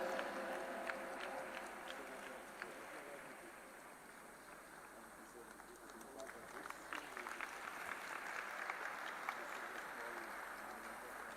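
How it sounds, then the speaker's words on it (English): A hall audience at a media and communication school event gives a session moderator a sustained round of applause, a soft, steady wash of clapping heard from some distance throughout. "Let us have a huge round of applause, my dear friends, for Mukesh Sharma ji."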